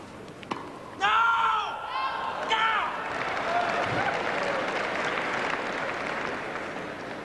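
Crowd applause swells and holds steady at a 1990 Grand Slam Cup tennis match in Munich, a dense wash of clapping from the stands with a commentator's voice briefly heard over it at the start.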